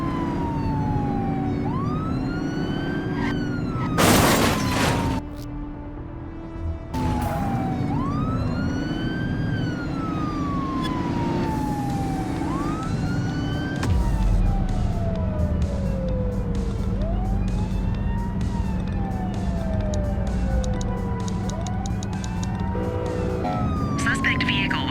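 Police car sirens wail and yelp in a chase in the video game The Precinct, several overlapping sweeping tones rising and falling over engine and traffic noise, with brief bursts of radio chatter in between.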